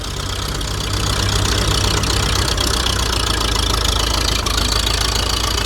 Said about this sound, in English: Firing up the tractors.